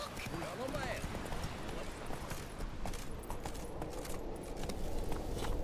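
Horse hooves clip-clop steadily across ground in The Witcher 3 video game, with a brief whinny early on and a voice speaking over the rhythmic steps.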